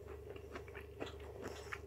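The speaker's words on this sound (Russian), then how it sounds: "Хрустит." Crunchy double-breaded fried chicken wing dipped in ketchup, bitten and chewed up close, giving a few crisp crunches over a low steady background hum, with no talking.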